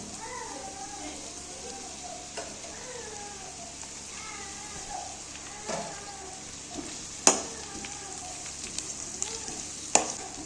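Onions and curry leaves fry in a pan for a South Indian pepper chicken fry, giving a soft, steady sizzle with a few sharp spoon taps and scrapes, faint and close.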